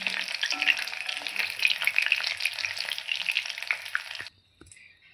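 Chicken pakoras deep-frying in hot oil give a loud, continuous crackling sizzle close by that cuts off suddenly near the end, leaving a brief quiet clink and low murmur.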